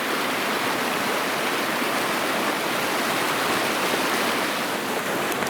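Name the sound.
babbling brook, river flowing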